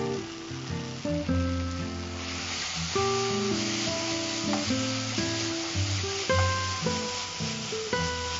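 Fish thokku fries in a pan while being stirred, a steady close sizzle with occasional spatula scrapes, under tonal background music.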